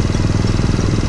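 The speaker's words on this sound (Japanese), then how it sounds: "ちなみにこれエンジン、これ今4速でアイドリングプラスアルファなんですけど" Chinese-made Cub-type motorcycle engine pulling in fourth gear just above idle during break-in, a loud, steady, close-up chugging drone with even pulsing.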